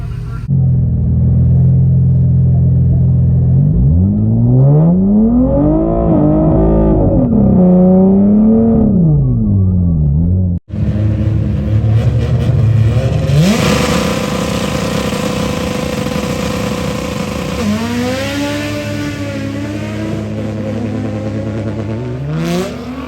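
Upgraded-turbo Nissan Z running close by, a steady loud engine drone with rising and falling revs, then a brief cut into a harsher, brighter roar that keeps surging.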